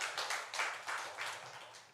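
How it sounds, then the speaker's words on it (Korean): A church congregation applauding during a Sunday worship service, a quiet, distant wash of rhythmic clapping that rises and falls in soft pulses, with no voices over it. "우리 하나님께 감사의 박수 올려드리겠습니다."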